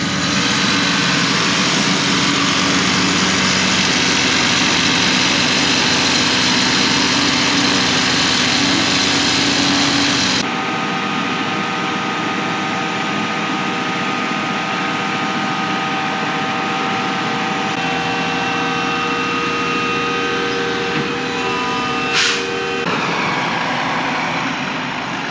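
A cement truck's engine idles at a grain bin pad concrete pour, a steady loud drone that drops to a lower, quieter hum partway through, with a brief sharp noise near the end.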